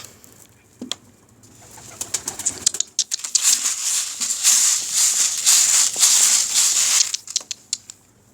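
A pigeon takes off and flies away close by, with a burst of rapid wing flapping and fluttering lasting several seconds, followed by scattered softer taps and rustles.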